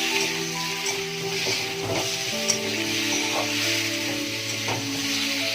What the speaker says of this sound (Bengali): এই যে চিংড়ি মাছটা দিয়ে দিলাম একসাথে, এটা ভেজে নেবো মধ্যেই